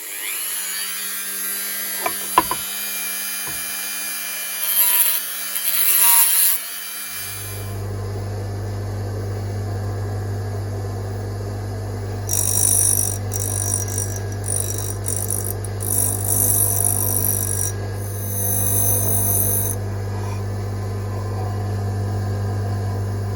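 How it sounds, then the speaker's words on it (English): A Dremel rotary tool grinds the end off a metal part held in a 5C collet block, running as a steady loud whine that starts partway through and holds to the end, with brief louder bursts as it bites into the workpiece. "I'll just grind the end off. I'll plug in the Dremel,"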